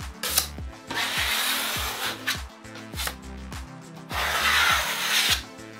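Drywall tape pressed into joint compound with a knife on plasterboard during a bathroom renovation: repeated raspy scraping strokes, close and fairly loud, with a steady tonal bed running underneath.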